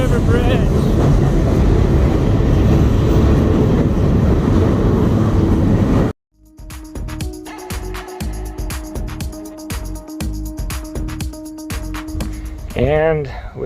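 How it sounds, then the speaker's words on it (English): A train passes close by near the James River Bridge on the Appalachian Trail, first a loud rushing roar, then rhythmic clacking of railcars and a high steady squeal; a voice talks over the start. "and we get a live train while we do it"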